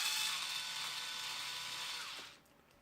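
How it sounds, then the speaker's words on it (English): An electric screwdriver whirs steadily as it backs screws out of an Aromis aroma diffuser, a close, continuous high motor whine that dips in pitch near the end before cutting off abruptly. "I'm going to use my electric screwdriver to speed things up a little bit"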